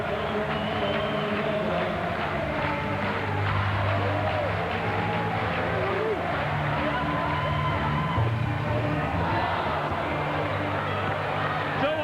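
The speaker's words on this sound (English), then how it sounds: "Listen to the crowd sing." Basketball crowd at a 2001 World Cup qualifier between New Zealand and Australia at North Shore, a sustained roar of many voices singing and cheering together, steady and loud from start to finish.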